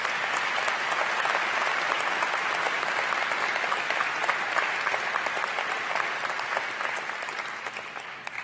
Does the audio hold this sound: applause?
yes